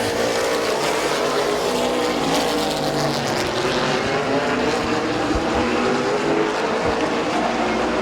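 Stock race cars roar around Midvale Speedway on the final lap, a dense, loud, continuous engine drone with shifting pitch as the pack passes.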